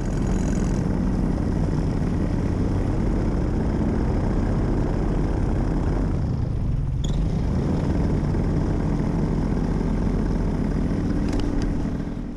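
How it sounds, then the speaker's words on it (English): A paramotor engine drones loudly and steadily after landing, dips briefly as if cut, then picks back up into a continuous running roar, heard close with wind noise. "As I was coming in for a landing, as you can hear on this next clip, I try to kill the engine and it restarts."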